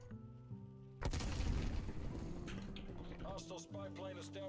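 Revolver pistol shots in the Call of Duty Cold War game, a sharp loud blast followed by a dense rumbling tail, with game music tones and effects around it.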